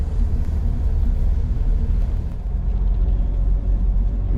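A Hudson Hornet rolls along a dirt circle track, its engine producing a loud, steady low rumble that stays close and continuous throughout, easing slightly partway before holding on.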